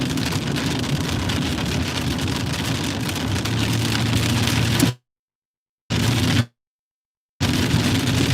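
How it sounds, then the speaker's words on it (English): Steady rain drums on a car while driving, a dense continuous wash with a low road rumble beneath, cut by two brief silent gaps before resuming. "Apologies for the rain sound. It is going to get louder here."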